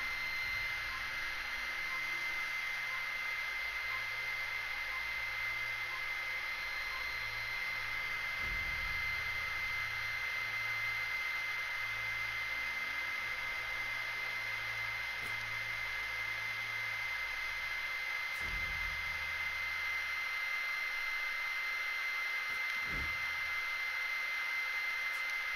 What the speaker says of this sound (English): I don't know if everybody with the first generation of PS Pro sounds like that, or it just constantly sounds like a jet engine running